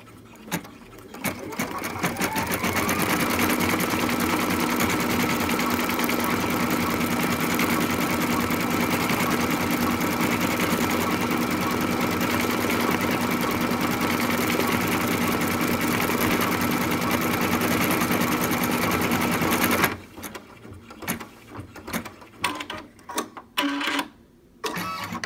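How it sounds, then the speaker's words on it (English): Embroidery sewing machine stitching purple thread on an in-the-hoop snap tab project, a loud rapid mechanical chatter running steadily for about twenty seconds before stopping, followed by scattered clicks and handling noises. "I'm going to go ahead and stitch that"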